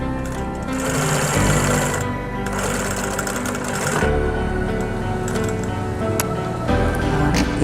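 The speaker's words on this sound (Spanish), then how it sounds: "Y ahora esto vamos a coser así." A sewing machine stitching a wallet made from recycled fabric, a loud close rapid mechanical whirr that runs in long continuous stretches with brief pauses and clicks between them.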